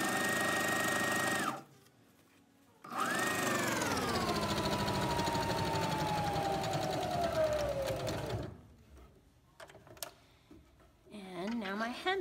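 Sewing machine stitching a skirt hem, running in two loud sustained bursts with a short pause between, its motor whine steady and then slowly winding down before falling quiet.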